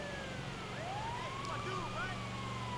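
An ambulance siren wails in rising and falling sweeps over a steady engine hum while driving in GTA 5, fairly faint and continuous.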